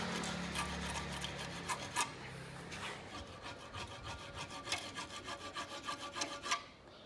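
A hand file scrapes rhythmically back and forth across the lining of drum brake shoes, giving a steady run of close, rasping strokes with no speech.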